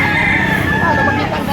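Roosters crow loudly at a busy chicken market, one long strained call held for over a second amid dense clucking and crowd noise.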